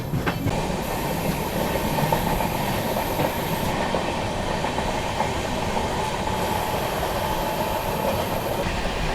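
The Poorvottar Sampark Kranti Express passenger train runs on rails with a continuous loud rumble, rhythmic wheel clatter and a thin high squeal that comes and goes.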